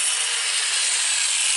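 A saw rasps continuously through wood, a bright, hissing scrape held without pause, close and fairly loud.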